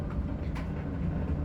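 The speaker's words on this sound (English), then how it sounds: "apologize for the noise, the dryer's going" Clothes dryer running nearby, a steady low rumbling drone with no breaks, fairly quiet and constant.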